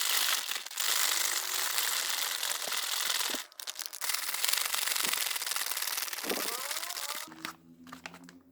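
A sealed plastic MRE flameless ration heater bag filled with water is shaken vigorously, giving a loud, continuous crinkling and rustling that runs for several seconds, breaks off briefly, then resumes.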